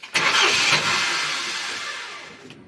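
A Ford C-Max 1.6 petrol engine with unstable idle cranks briefly and catches, flaring up loudly before settling into a steady, gradually fading run, with no voices.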